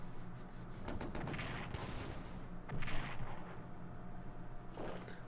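Artillery fire from the World War I strategy game Strategic Command rumbles in a continuous barrage of booms and crackling blasts, several heavier bursts standing out, no voices.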